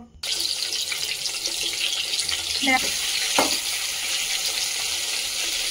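Potatoes fry in hot mustard oil in a wok, a steady, fairly loud hiss of sizzling that starts abruptly and continues with a couple of faint stirring clinks, no voices.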